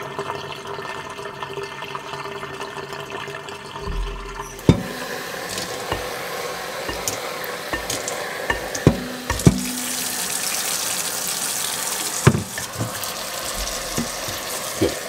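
Salty water poured off a bowl of cabbage into a colander in a kitchen sink, with an onset of splashing and running water, then scattered knocks and clatters over a steady wash, close and without speech.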